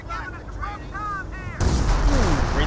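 B1 bomber strike explosions in the World War II strategy game Company of Heroes: a voice talks briefly, then a loud, dense wall of blast rumble and crackle erupts and keeps rolling to the end.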